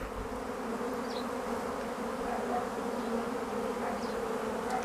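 Honey bees swarm around a hive entrance, their dense, steady buzzing filling the air without a break, close and continuous.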